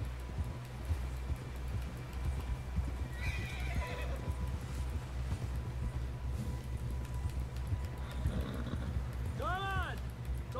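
A horse galloping in Red Dead Redemption 2, hooves drumming rapidly and steadily under music, with a few snorts and a clear whinny near the end.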